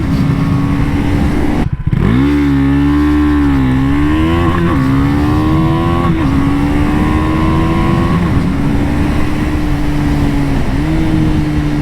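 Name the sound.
KTM 390 Duke motorcycle revving and launching from a start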